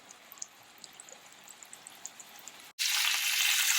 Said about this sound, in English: And you could hear it starting to sizzle.